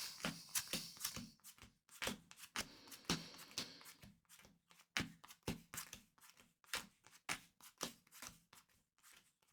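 Playing cards riffled and shuffled by hand on a table during a card game, a run of crisp, rapid fluttering bursts with brief pauses between shuffles, close and clear with no talking.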